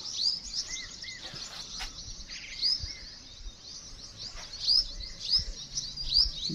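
A small bird in a rest house garden at Soon Sakesar, Khushab, chirps in scattered short bursts, sharp and high but fairly soft, over a quiet outdoor hush. No voices are heard.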